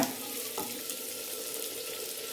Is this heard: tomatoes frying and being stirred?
yes